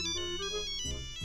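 A telephone ringtone chirps in a rapid repeating electronic pattern, loud and continuous throughout the moment with no voices over it.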